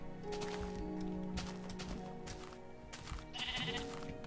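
Sheep bleat in the video game Minecraft, several short nasal bleats over a busy background of game sounds and music tones, fairly quiet overall, with no talk.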